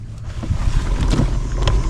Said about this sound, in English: Ooh, that wind is cold.